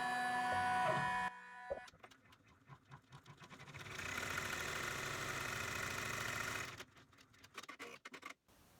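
An embroidery machine stitching an in-the-hoop fanny double zipper bag: fast mechanical rattling and clicking stitches, pausing and restarting, then a sustained steady whirring run before stopping, close and without talk.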